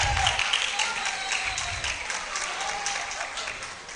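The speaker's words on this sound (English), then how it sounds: "Let's applaud Anne." Audience applause at a university Faculty of Law roll call ceremony, a steady crowd clapping for a graduate being called, fading slightly over several seconds with a distant voice under it.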